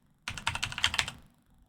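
Computer keyboard typing in a quiet room, a quick burst of about a second of dense, even clicking with no voices.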